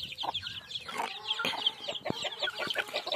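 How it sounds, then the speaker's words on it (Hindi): Desi hens clucking nearby on a village rooftop garden, a busy mix of short clucks and chirpy calls from several birds, with scattered scratching and knocks. "आप देख सकते हैं देसी मुर्गी है"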